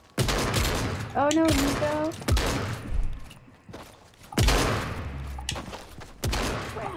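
Repeated loud bursts of automatic gunfire in Fortnite come in several separate volleys with short gaps between them, while players shout over the shooting.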